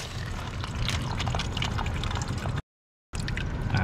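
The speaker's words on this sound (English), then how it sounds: "Chris, open the water." Water spraying and gushing from a leaking copper pipe behind a wall during an emergency plumbing repair, a steady close hiss and splash that cuts out briefly, then resumes at full strength.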